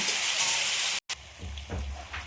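Chicken and vegetables fry together in a pan with a soft, hissing sizzle. The sound cuts out for a moment, then returns quieter, with a few stirring scrapes near the end.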